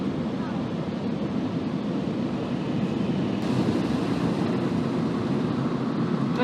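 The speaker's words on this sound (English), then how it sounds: "now it's drying Mama's car." A car wash dryer blasts air over a car in a steady, loud, close roar of rushing wind that holds without a break.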